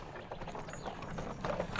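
Hooves of a team of six horses pulling a royal wagon clip-clop steadily on a hard surface, a continuous brisk rhythm of overlapping hoofbeats at moderate distance, with no talking.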